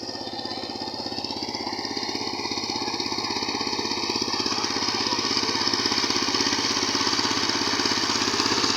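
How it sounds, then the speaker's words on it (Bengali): A power tiller's engine runs steadily in a rice field, a loud, close, rapid chugging with an even mechanical rhythm that holds throughout and swells slightly toward the end, with no talking over it. "তিনি যে এই পাওয়ার টিলার চালাচ্ছেন"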